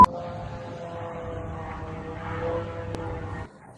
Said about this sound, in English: Is that a drone, huh?